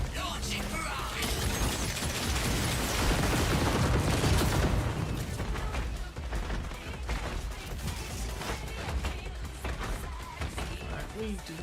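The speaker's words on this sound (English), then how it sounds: "Launching barrage." An artillery barrage from a mech in Steel Hunters roars into a dense, rumbling wall of blasts that peaks early and then fades into a steady clatter while someone keeps talking over it.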